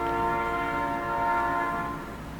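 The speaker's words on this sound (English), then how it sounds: "now that we've been interrupted by the train twice" A train passes close by, its horn sounding a loud sustained multi-tone chord over rumbling wheels that fades slightly toward the end.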